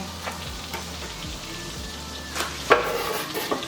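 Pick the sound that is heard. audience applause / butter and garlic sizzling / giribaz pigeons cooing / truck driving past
butter and garlic sizzling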